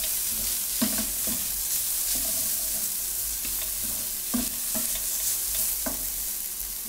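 Garlic and ginger sautéing in a pan for braised beef short ribs, with a constant crackling sizzle broken by several sharp scraping strokes of a spoon being stirred through, close and clear with no talking.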